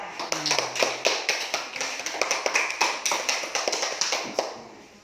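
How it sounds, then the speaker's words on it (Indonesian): Classroom applause for a student group, a burst of quick, fairly close hand claps with a sharp, rapid rhythm that continues steadily to the end and fades slightly. "Beri aplaus untuk kelompok 2."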